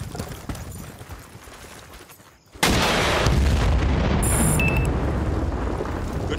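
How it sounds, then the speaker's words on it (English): A C4 charge detonates in Battlefield, a sudden loud blast that cuts in after quieter battle noise and rumbles on heavily, with faint high ringing tones above the roar. "Use the C4 and blow up those guns now!"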